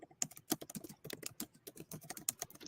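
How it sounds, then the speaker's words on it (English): Fingers typing on a computer keyboard, a quick, irregular run of soft key clicks at moderate distance, faint but clear with no voices over it. "I hear Ed typing"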